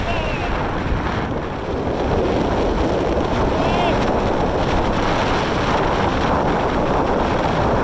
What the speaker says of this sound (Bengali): মারাত্মক হাওয়া দিচ্ছে